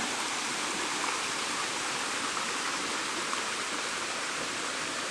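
Hell Brook, a mountain stream on Mt. Mansfield, rushes over rocks in a steady, dense wash of water noise that stays constant and fairly loud throughout, with no voices.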